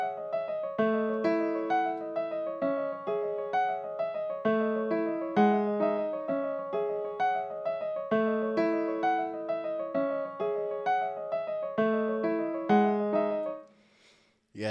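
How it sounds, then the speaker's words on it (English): A dry, unprocessed piano trap melody loops a repeating pattern of clear plucked notes and chords at a steady rhythm, ending with a brief pause and a faint click. "I'm going to play you the pattern without the effects that I added to make it sound a lot better"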